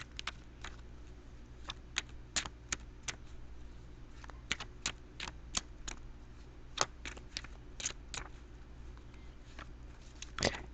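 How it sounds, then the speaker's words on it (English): Crisp clicks and soft flutters of tarot cards being shuffled, arriving in irregular quick bursts over a steady low hum, close and fairly quiet, with no talking. "I'm going to shuffle them again."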